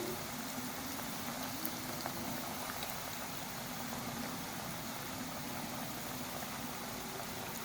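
Chicken nuggets fry in oil over a medium flame, giving a steady, low, unbroken sizzle that stays even throughout with no talking.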